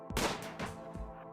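Gunfire in the colony-building game RimWorld, during a tribal start with colonists defending a barricade: a few sharp, loud bursts in quick succession, each with a short booming tail, heard alone without talk.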